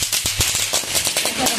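Firecrackers burst at midnight on New Year, a quick run of close, sharp cracks and pops repeating irregularly, loud against a busy background.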